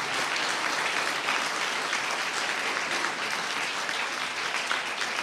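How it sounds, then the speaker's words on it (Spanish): Audience applause for an author at a poetry and alternative-publishing book event. The clapping is dense and even, and it carries on unbroken for over five seconds with no speech over it. "quería invitarlos a darle un aplauso a Cristian"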